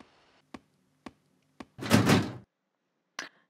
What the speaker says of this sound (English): This door is stuck.